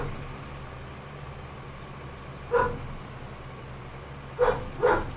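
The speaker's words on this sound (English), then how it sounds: "I don't know what the heck they're barking at." Dogs bark outdoors at a distance near a farm during corn harvest, one bark followed later by a quick pair, faint over a constant background hum.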